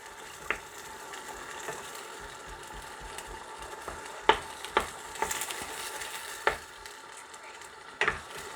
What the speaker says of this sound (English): Keep frying the shito.